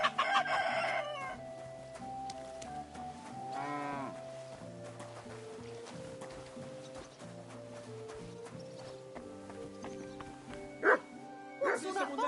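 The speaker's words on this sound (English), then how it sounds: "What's all that barking for?" A dog barks amid a mix of farm-animal calls, including mooing and a rooster crowing, over steady background music, with voices talking at times.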